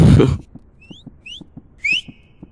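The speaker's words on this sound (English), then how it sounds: "okay, y'all keep whistling." In the Roblox game Apeirophobia, several players whistle short rising tones one after another, close and clear, over faint rhythmic footsteps after a brief burst of noise at the start.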